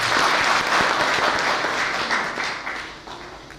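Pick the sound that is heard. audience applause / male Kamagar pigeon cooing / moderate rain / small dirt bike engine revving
audience applause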